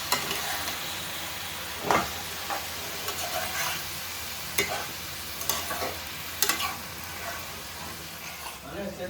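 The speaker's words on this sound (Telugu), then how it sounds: "ఒకసారి కలిపేసుకుందాం" Curry stirred in a cooking pan with salt and turmeric, a spoon scraping through the sizzling mixture in repeated strokes over a steady low fry.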